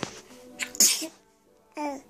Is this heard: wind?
no